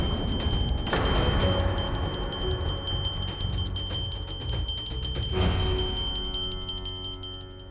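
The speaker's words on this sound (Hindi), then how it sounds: "अब तो चीड़ आने लगी है इस घंटी की आवाज से" A bell rings steadily in a home and keeps ringing as a sustained, shimmering metallic tone. It is loud and continuous for several seconds, renewed by a fresh strike partway through, with no talking.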